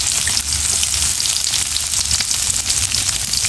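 Chopped onion, garlic and green chili sizzle steadily in hot oil in a home kitchen, a dense continuous hiss with soft crackles and no one speaking.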